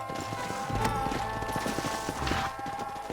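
Horses' hooves clopping on the ground as riders dismount in the video game Red Dead Redemption, a close, continuous clatter of hoofbeats with some background game noise.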